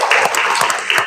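Students in a school classroom clap for themselves, a short burst of dense, close hand claps at fairly high level.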